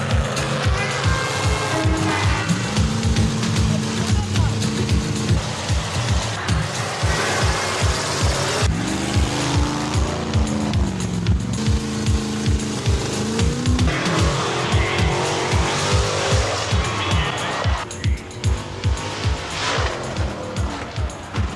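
Monster trucks roar through a race at a crowded monster truck event, loud engines revving and surging continuously with tire squeal and skidding throughout.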